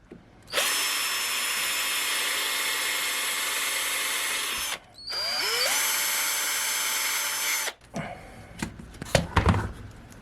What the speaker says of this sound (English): I go ahead and do the whole thing and then come back and drill it.